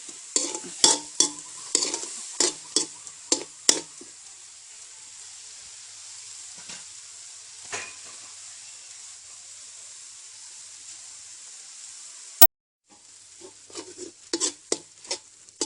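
Frogs are stir-fried with holy basil in a pan: a run of sharp, rhythmic stirring scrapes over a constant sizzle, then a long stretch of quiet hissing frying, before the close, clattering stirs start again.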